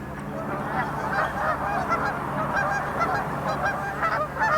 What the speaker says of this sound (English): geese have 11 to 13 distinct calls